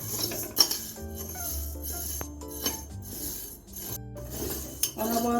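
Sago being dry-roasted in a kadai over medium gas, stirred with a metal spoon that clinks and scrapes against the pan in irregular bursts, with a faint voice now and then.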